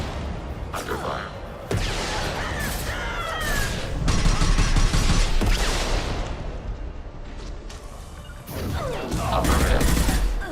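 Gunfire in the Mass Effect video game: dense bursts of shots and impacts crackling through a loud battle, surging and easing in waves over a constant roar of combat.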